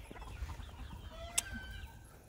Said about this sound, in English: Here's some chickens.